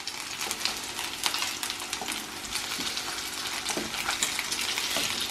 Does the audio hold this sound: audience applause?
no